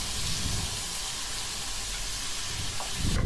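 Sliced potatoes sizzle in a frying pan with asafoetida, a steady close hissing fry that holds evenly for a few seconds, ending in a short clatter.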